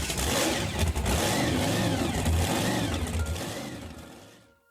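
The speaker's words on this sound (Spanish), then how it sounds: "Con estertores de asfixia se detuvo el motor." A boat's motor in a Spanish-language audiobook sputters and dies: a steady, rough mid-pitched engine drone with uneven pulsing that weakens and cuts out at the end, heard alone without speech.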